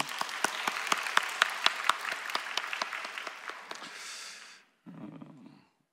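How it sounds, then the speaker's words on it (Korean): Lively clapping from a church congregation, brisk and uneven, tapering off after about four seconds, followed by a brief low murmur. "감사의 박수 한번 올려드릴까요?"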